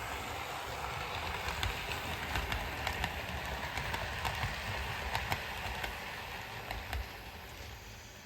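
A red later-version model underground train runs along a busy branch-line model railway, making a steady, quiet rolling hum with light rhythmic clicks from the track, and no voices.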